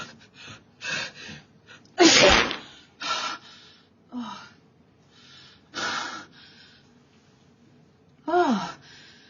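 A man lets out one loud, sharp sneeze at close range, set among snorts, gasps and heavy breaths across a quiet indoor room.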